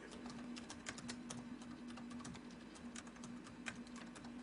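Rapid, light keystrokes on a computer keyboard while entering text into an Excel spreadsheet, a steady patter of close, quiet clicks over a low hum, with no talking.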